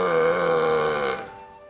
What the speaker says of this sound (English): cows burping